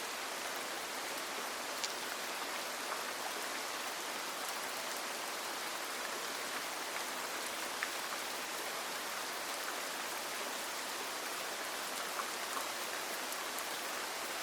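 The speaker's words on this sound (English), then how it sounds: "The fire makes a sound, distinct from the rain, a brief crack or a small settling" Steady, even rain washes across the whole clip as a dense, continuous hiss, with a few faint isolated crackles from a cottage fireplace barely rising above it.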